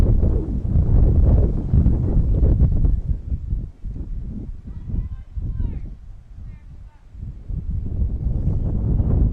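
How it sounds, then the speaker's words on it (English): Strong gusting wind of about 25 to 39 mph buffets the microphone at an outdoor softball game, a loud, continuous low rumble that eases briefly in the middle before surging back. "wind has been updated out of the south at 25 miles an hour, gusting to 39 at times"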